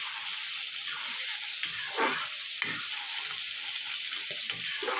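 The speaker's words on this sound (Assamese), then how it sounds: "এইটো লোহাৰ কেৰাহীটোত ইমান ধুনীয়া হয় নহয় মাছ ভাজিবলৈ" Fish belly fries in an iron wok with a loud, steady close-up sizzle and crackle and a few sharper spits and stirring scrapes along the way, with no talking.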